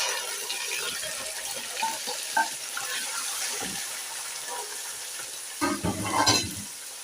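Beef pieces sizzle in a pot for biryani while being stirred, a steady soft fry with scraping spoon movements and a brief louder clatter near the end.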